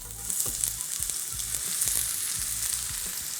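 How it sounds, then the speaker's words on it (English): Onions saute in vegetable oil in a pan, a steady bright sizzle up close with scattered soft clicks of stirring against the pan throughout and no speech. "we're going to start off by sauteing our onions"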